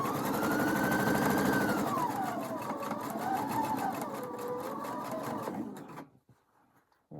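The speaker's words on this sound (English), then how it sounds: "Then I can take it back to my machine and stitch." A sewing machine stitches a quarter-inch seam on a nine-patch quilt block, giving a steady, rapid mechanical whir for about six seconds before it stops abruptly and leaves near silence.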